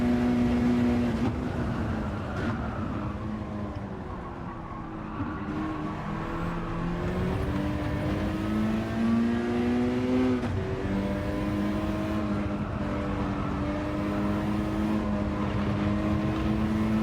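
Race car engines in a racing video game, a Peugeot RCZ GR3 road car battling for a slipstream, droning steadily with rising and falling pitch as gears shift, loud and continuous with no talk.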